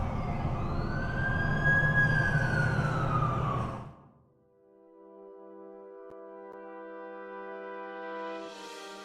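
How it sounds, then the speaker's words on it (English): An ambulance siren in The Amazing Spider-Man 2 video game wails loudly with rising and falling sweeps for about four seconds, then drops away into steady sustained electronic tones. "That's the ambulance I called."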